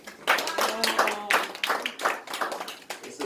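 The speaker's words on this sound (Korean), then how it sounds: "박수 소리가 억지로." A half-hearted round of hand claps from students at a church youth service, uneven bursts of moderate loudness lasting a few seconds, with some voices mixed in.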